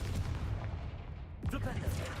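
A Confringo spell cast in the Hogwarts Legacy video game bursts out as a loud, booming blast over a dense, rumbling battle backdrop, with a sharper crackling impact near the end.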